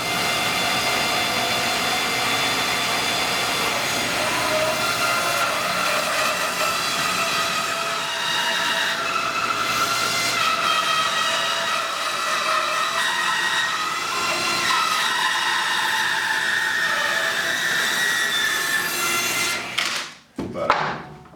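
A jigsaw cuts a circle from a redwood slab, a continuous loud rasping buzz of sawing that runs for about twenty seconds before stopping with a clatter at the end.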